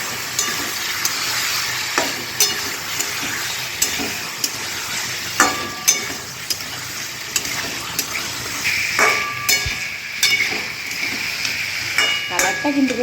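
Potato, pointed gourd and paneer curry sizzles steadily in a pan as whisked yogurt is stirred in, with a continuous hiss broken by regular scraping knocks of the spoon, close up and without talk.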